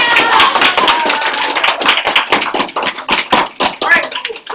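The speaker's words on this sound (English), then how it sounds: "Are we clapping?" Scattered claps from a classroom of students, irregular and fairly close, with some overlapping voices mixed in.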